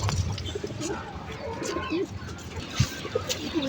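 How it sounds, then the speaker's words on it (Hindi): Pigeons cooing around a nest with two chicks, soft low repeated coos over a busy outdoor background with some chirps, a close thump and a few brief voices. "ओ देखो मरियम, दो चूजे भी निकले हुए कबूतर के।"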